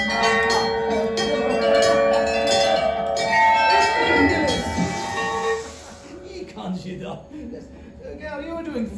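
A bell at a Universal Studios Japan attraction rings out with bright, sustained metallic tones for several seconds before fading, while nearby people talk and chuckle.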